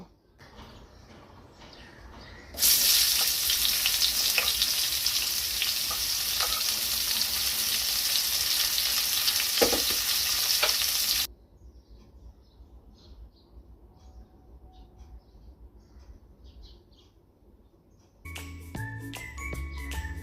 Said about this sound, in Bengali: এবার কিছুটা পেঁয়াজ আমি ভেজে নেব